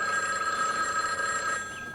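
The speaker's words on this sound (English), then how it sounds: "I'll get the phone." An indoor telephone bell in the mid-1980s rings in one sustained bright trill, clear and fairly close, with no voices over it.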